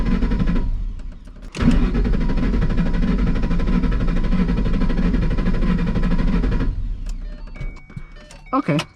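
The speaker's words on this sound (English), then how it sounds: "you can crank no start" A Coyote Mustang V8 with its fuel pump fuse pulled cranks for about five seconds without catching, a loud, even starter whir that stops abruptly, followed by quiet clicks and a few brief sounds.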